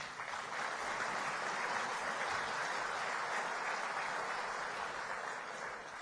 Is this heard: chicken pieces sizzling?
no